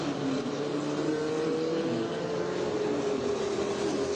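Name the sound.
race car driving past on track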